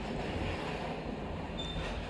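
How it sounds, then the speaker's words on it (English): Train leaving a station, a steady loud rumble of wheels and carriages that fills the whole stretch, with a faint high squeal near the end. "I managed to slip out onto one of the trains leaving the station"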